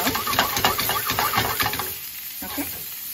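Turmeric, ginger and cilantro are stirred around a frying pan with repeated scraping strokes over a light sizzle. The sound is close, then it thins out and quiets near the end.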